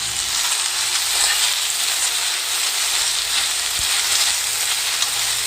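Chopped okra fries in hot oil for a chutney in a home kitchen, giving a steady, close sizzle throughout with an occasional stir or clink, no talking.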